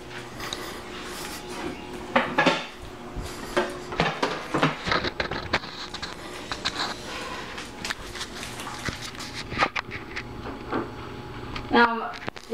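A dish of banana soufflé is slid into a preheated Rival oven set to 375 degrees, with clatters, knocks and a door thud, close by and mixed with kitchen movement and some talking.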